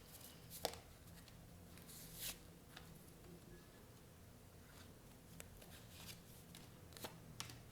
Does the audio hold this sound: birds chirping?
no